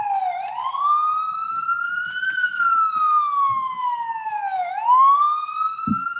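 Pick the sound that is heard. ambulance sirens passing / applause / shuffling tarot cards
ambulance sirens passing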